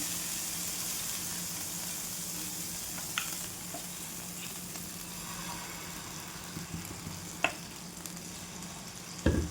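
Aamras dhirde batter spread with a ladle across a hot nonstick tawa gives a continuous, even sizzle with a few faint scraping clicks. No one speaks.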